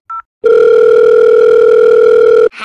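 A short beep, a pause, then a loud, steady telephone dial tone that holds unbroken for about two seconds before cutting off.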